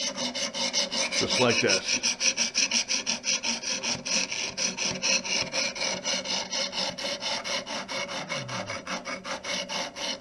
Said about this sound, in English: I've been sitting here with the 100 grit, and I've been scrubbing to get a burr on the other side.